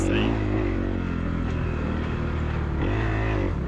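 A dirt bike engine drones steadily during a sprint enduro ride, with a brief shift in revs near the end, heard close beneath a person talking.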